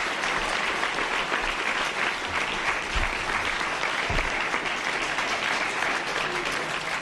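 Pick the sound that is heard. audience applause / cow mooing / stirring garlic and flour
audience applause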